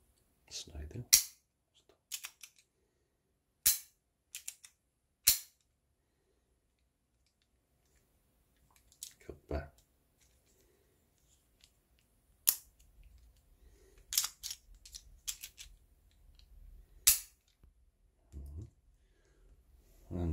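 A miniature metal 1:2 scale Glock 17 model gun gives a series of sharp, close metallic clicks and snaps as its slide is racked and tiny casings eject, spaced irregularly between quiet gaps, with no talk.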